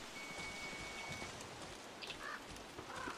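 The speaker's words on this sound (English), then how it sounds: "Oh, it's raining." Steady rain falls in Don't Starve Together, a continuous even hiss of drops across the whole stretch with a few faint chirpy game tones over it, no talking.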